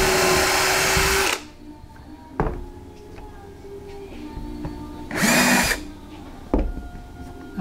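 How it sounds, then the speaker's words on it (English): A power drill whirs in two short bursts, pre-drilling plastic wood, loud and close, separated by quieter handling noises. "There's a bit of pre-drilling."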